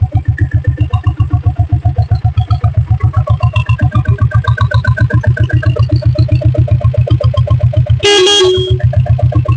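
A diesel Bullet motorcycle's horn gives one short, loud blast near the end over the engine's steady, close thumping idle, and no one speaks.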